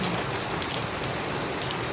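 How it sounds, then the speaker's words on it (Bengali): Heavy rain pours down in a dense, unbroken roar of drops striking surfaces, steady and loud throughout with no pauses. "অনেক সুন্দর বৃষ্টি হচ্ছে অনেক মিষ্টি বৃষ্টি হচ্ছে অনেক জোরে বৃষ্টি হচ্ছে"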